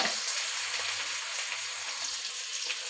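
Green chilies and onion fry together in a pan with a steady, bright sizzle and crackle throughout, close up and continuous, with no talking.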